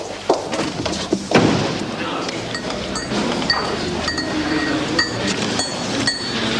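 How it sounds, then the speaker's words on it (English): A spoon clinks against the inside of a cup while stirring a drink, with light, repeated metallic taps under a busy background of room noise and thumps. "you stir that much longer than you have spoon in there"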